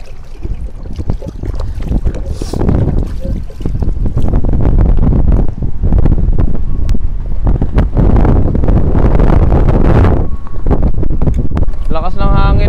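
Strong wind roars and buffets the microphone continuously at a riverside campsite on the Ambayaoan River, San Nicolas, Pangasinan, Philippines, a loud, rushing gust with flapping and rumbling, and no clear speech.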